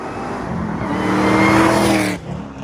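A tuned 900-horsepower 2013 Chevy Camaro ZL1 with a manual gearbox roars past on a road, a loud rising engine drone that peaks and then drops away abruptly.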